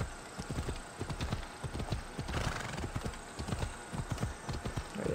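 Horse hooves clip-clop steadily while riding through a town in the video game Assassin's Creed Odyssey, a brisk close rhythmic trot with an occasional neigh.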